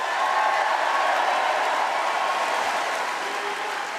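Party conference audience cheering and applauding at the close of a political speech, a dense, steady crowd roar with clapping that stays loud and sustained throughout, no individual voices standing out.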